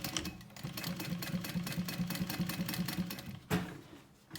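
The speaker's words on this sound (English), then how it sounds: "Measure out the 2 inches and then sew it up." A sewing machine stitches a handbag seam in a fast, steady run of close, even needle beats for a few seconds, then stops with a click before the motor winds down.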